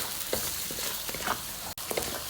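Spice paste for rawon fries in oil while being stirred steadily, a continuous close sizzle with scraping strokes from the spoon and a brief break near the end.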